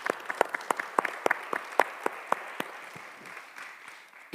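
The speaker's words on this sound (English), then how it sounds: "Round of applause for them." A conference audience at a tunnelling awards event applauds with scattered, fairly sparse claps from a modest crowd, a run of sharp individual hand claps that thins out and fades over a few seconds.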